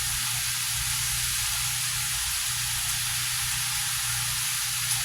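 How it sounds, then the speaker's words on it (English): Raw chicken sizzles in a hot pan, a constant bright hiss of frying with a low steady hum underneath, no talking. "we're just going to let it sizzle"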